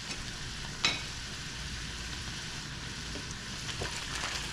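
Seasoned sloppy joe meat with pepper, onion powder and garlic powder gets stirred in a frying pan, a faint low sizzle with one brief scrape of the utensil near the start.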